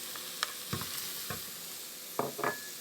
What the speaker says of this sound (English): And we'll just keep frying that.